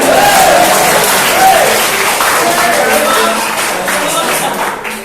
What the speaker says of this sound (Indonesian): Maka tertawa tepuk tangan.